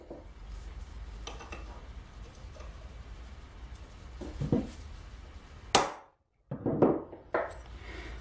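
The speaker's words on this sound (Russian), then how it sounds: "Первым делом мы кернем." A few sharp metallic taps of a hammer on a center punch against a metal plate, separate clicks and clanks spaced over a quiet workshop background, close and moderately loud.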